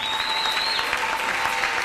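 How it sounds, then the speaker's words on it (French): A church congregation applauds, a dense, steady wash of clapping from many hands that fills the whole moment. "Nous voulons vraiment applaudir le Seigneur et sa parole."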